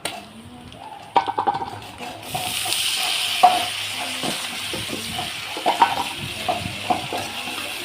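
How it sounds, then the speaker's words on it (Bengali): Chopped potatoes with onion, green chili, salt and turmeric fry in a pan, a moderate sizzle rising after a few seconds as a utensil stirs them in irregular scraping knocks, close by. "আলুটা ভেজে নিলাম।"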